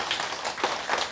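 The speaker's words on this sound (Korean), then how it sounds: "학교에 감사하다고 박수 한번 치면 좋죠" An audience of elderly people at a school health lecture claps together, a brief burst of dense, fairly loud applause with no voices over it.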